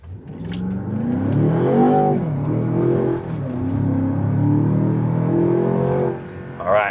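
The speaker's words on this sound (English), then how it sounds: "That's a pretty punchy, quick downshift." A Mercedes G63 AMG or Land Rover Defender OCTA SUV engine revs and rises in pitch, then drops sharply with a quick paddle-shift downshift. The engine is close and loud, and people talk over it.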